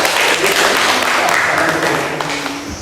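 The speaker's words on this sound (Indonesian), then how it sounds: "boleh aplaus dulu" Students in a classroom break into applause, a dense wash of clapping that holds steady and then slowly thins out over a few seconds.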